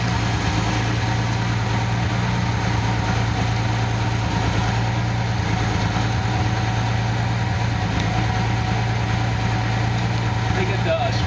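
A 1988 Nissan 300ZX turbo engine idles steadily nearby, running rich, with a constant low hum and continuous mechanical rumble throughout.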